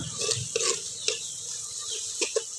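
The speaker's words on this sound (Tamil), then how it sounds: "இந்த வெந்தயம் வந்து நல்லா பொன்னிறமாக வந்ததுக்கப்புறம் கருவேப்பிலை பச்சை மிளகா வெங்காயம் தக்காளி இதெல்லாம் வதங்கினதுக்கப்புறம்" Fenugreek seeds, curry leaves, green chili, onion and tomato sautéing in a pan for sardine fish curry, a continuous close sizzle with several scraping stirs of a spoon against the pan.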